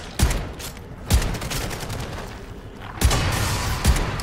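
Shotgun blasts in MW3 Zombies, four sharp heavy booms spaced unevenly over a few seconds, each followed by a brief rumbling tail under ongoing game noise.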